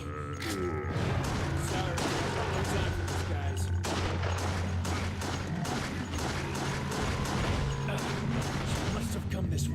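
Gunfire rattles through a video game as dense, rapid cracks and booms, loud and continuous, with voices talking over the din.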